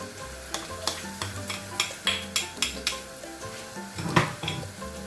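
Garlic sizzles in a little oil in a pan while a utensil stirs it, a soft steady frying hiss broken by a rhythmic series of scraping clinks against the metal.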